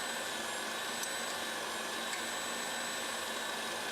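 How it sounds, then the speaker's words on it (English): Electric whisk running fast as caster sugar is gradually beaten into egg whites for a meringue-like mixture; a steady, even whirring drone runs close and loud throughout, with no talking. "I'm going to keep the whisk fast and add the sugar gradually"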